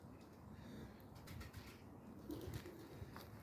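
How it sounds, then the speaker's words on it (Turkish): Pigeons coo softly in low, murmuring calls against steady background noise, with a few brief rustles. "Çarşamba günü için sunumumuza çıkacak kuşlar bunlar."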